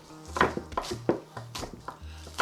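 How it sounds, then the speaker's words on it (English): Green onion is chopped on a cutting board for a beef rib marinade, a quick series of sharp knife strikes in an irregular rhythm, close and fairly quiet with no talk. "I'm gonna chop up my green onion"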